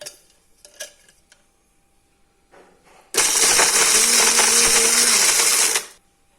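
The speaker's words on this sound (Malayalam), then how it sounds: "നമുക്കിത് മിക്സിയിലേക്ക് ഇട്ട് പൊടിക്കാം" A mixer grinder starts abruptly and whirs loudly at full speed for about three seconds grinding cheese into powder, then cuts off, after a few quiet clinks.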